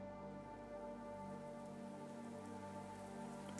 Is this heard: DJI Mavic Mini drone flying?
no